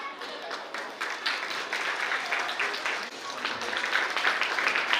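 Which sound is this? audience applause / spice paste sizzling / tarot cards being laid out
audience applause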